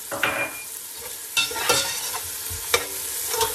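Ginger, shallots, garlic and crushed berries sizzle in a pan while a utensil stirs them, giving a close frying hiss broken by several scraping strokes.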